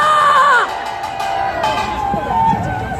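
A rally crowd in Daegu cheers and shouts at a Taegukgi flag rally, a rough roar of many voices that swells after a brief single voice at the start and carries on at a steady, loud level.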